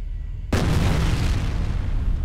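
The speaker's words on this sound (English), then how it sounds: "Let's try and throw a grenade now." Grenade blast in the shooter game F.E.A.R.: a single sudden loud boom cuts in after a quiet moment, then rolls into a long crackling rumble that slowly fades.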